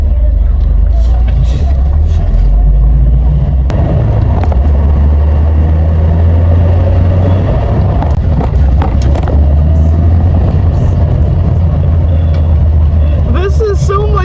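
A BMW E36 rumbles along at speed with a heavy, steady low engine drone and road noise from inside the cabin, a brief rise in tone near the end and a voice speaking over it at moments.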